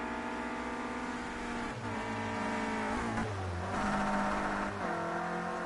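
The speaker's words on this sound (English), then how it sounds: "High revs there as he gears down to throw it round the corner" A Clio Cup race car at Brands Hatch GP screams at high revs, its engine note dropping and jumping with each downshift into a corner, loud and continuous with shifting pitch.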